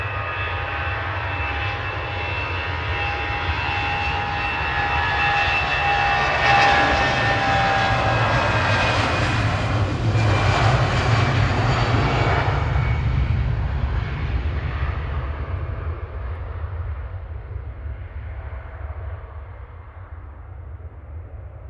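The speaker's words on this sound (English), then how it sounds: "EasyJet on the roll." An EasyJet A320 airliner rolls for takeoff on a Manchester Airport departure to Belfast at sunset, its engine roar building to a broad, loud rumble and then slowly fading into the distance, with no voices.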